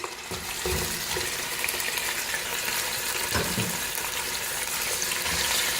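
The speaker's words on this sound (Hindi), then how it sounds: "अच्छी तरह से फ्राई करेंगे ऑयल में।" Goat meat fries in half a cup of hot oil in a pan, giving a steady, dense sizzle and hiss with faint stirring bumps throughout, close and moderately loud, with no talk.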